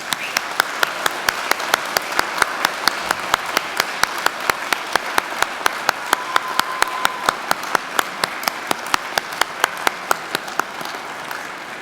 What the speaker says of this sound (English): I'd like you to turn around and face your family and friends and give them a mighty round of applause